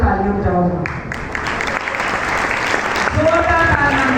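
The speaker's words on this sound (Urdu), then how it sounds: "زوردار تالیاں بجاؤ" A church congregation claps in steady, sustained applause while a preacher keeps speaking loudly over it.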